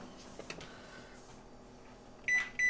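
A microwave oven gives two short, bright electronic beeps near the end as its timer is set. Faint clicks and quiet kitchen sounds come before the beeps.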